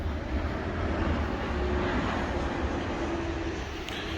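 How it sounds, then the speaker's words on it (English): An airplane passing overhead, a broad steady engine roar that holds loud throughout before easing slightly at the end, no speech. "So bear with me, plane's going over."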